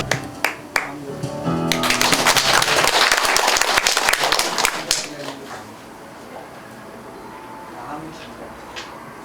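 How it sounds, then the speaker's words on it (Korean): An audience claps at a campaign office opening for an independent election candidate in Jungnang. Scattered claps swell into loud, sustained applause for a few seconds, then fade into a quieter room. "큰 박수 부탁드리겠습니다."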